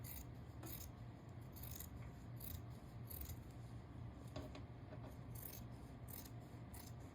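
Scissors trim fabric for a petal pillow down to a narrow seam allowance, producing quiet, close, repeated crisp snips at an irregular rhythm over a faint background.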